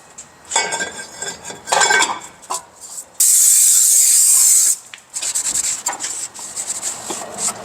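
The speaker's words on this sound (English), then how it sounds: "let's spray off that oil residue" A loud, steady hiss of aerosol cleaner sprayed on a rear brake rotor of a Cadillac Escalade for about a second and a half, between scattered rubbing and metallic clinks of work on the part.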